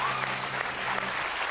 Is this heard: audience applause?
yes